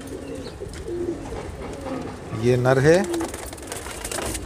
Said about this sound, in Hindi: लाजवाब कबूतर हैं बाबू भाई के यहाँ